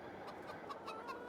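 Chickens cluck at a pen in the Farming Simulator 22 video game, with several short clucks and chirps repeating in an uneven rhythm over a steady farmyard ambience, fairly faint and with no talk.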